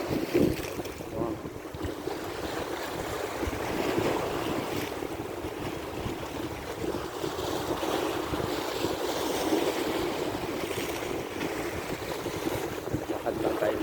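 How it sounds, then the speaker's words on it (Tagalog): Steady wind buffets the microphone while sea waves wash continuously along the Jeddah Corniche seaside, a broad, constant rushing roar with no distinct breaks. "Ito ng tabing dagat dito sa Jeddah."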